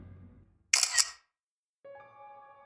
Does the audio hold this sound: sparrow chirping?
no